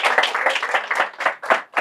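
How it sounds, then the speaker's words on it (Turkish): A studio audience claps briskly for an award handed to actress Nevra Serezli on a Turkish television talk show: dense, close applause in a short burst. "Onu alkışlıyorum."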